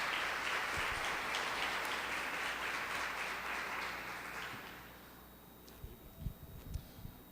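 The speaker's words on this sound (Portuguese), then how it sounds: "Pode aplaudir." A church congregation at an evening service applauds Pastor Marcelo, the clapping fairly distant and full at first, then thinning and fading out, followed by a few scattered thumps and shuffles.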